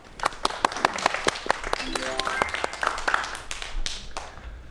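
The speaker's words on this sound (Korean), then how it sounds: "박수로 청해 보도록 하겠습니다" Audience applause at a science talk on science fiction films and time travel, many distinct hand claps in a fairly quick, uneven rhythm, moderately close, with a voice speaking briefly over them partway through.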